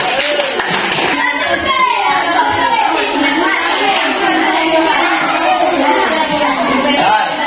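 Sustained classroom applause for the second student group, with children's voices chattering throughout at a steady, dense level.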